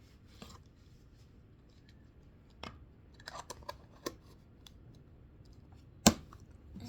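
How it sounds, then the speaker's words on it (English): Small handful of slime squeezed and handled, giving faint scattered clicks and tiny bubble pops, with one sharper louder pop near the end against a quiet background. "Yep, that's the noise of this slime."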